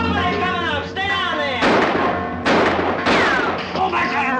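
Gunfire in a 1954 western movie shootout: several loud booming shots ring out in sequence, each with a sharp attack and a long echoing tail, mixed with film score and other soundtrack noise.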